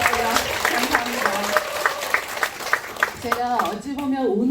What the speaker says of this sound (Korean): 여기에 앉아서 저에게 박수를 쳐주시는 여러분께 너무너무 감사드려요